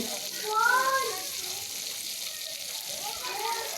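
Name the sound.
eggplant slices frying in oil in a pan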